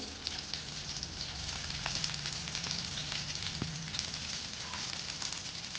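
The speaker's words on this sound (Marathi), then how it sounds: "तेल गरम झाल्यानंतर एक उभा चिरून घेतलेला कांदा घालायचा आहे" Sliced onion goes into hot oil for a spicy Pandharpur-style bazaar amti, giving a steady, dense crackling sizzle throughout with scattered sharp pops and no talking.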